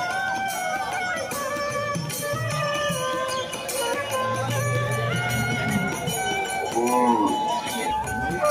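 Cattle moo in a crowded, noisy setting right beside the Kusumgram livestock market, with several drawn-out calls rising above a dense, continuous background clamour.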